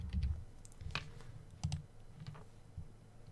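A two-factor authentication code typed on a computer keyboard: a few quiet, irregular key clicks in short bursts, close by and alone.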